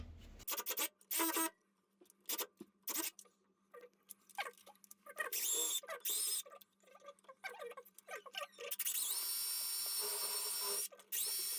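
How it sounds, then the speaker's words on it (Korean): A power drill set to drill mode bores through bathroom tile in short, repeated bursts of high whirring and grinding separated by pauses, close and loud. "지금 드릴 기능에다 놓고 일단 타일 한번 뚫어볼게요"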